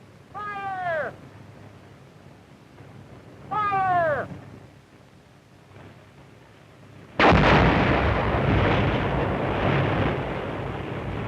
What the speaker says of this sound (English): The ore, which lies close to the surface of the ground, is loosened by blasting